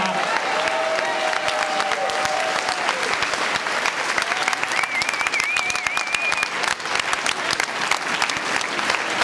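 Loud, steady applause from a large crowd at a 2009 municipal election event in Hagen, Germany, fills the whole stretch, with a few whistles and cheers rising over the clapping.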